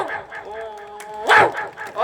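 A voice imitates the bark of a Chinese pet dog, giving one loud, gruff woof midway that stands out above a murmur of nearby voices.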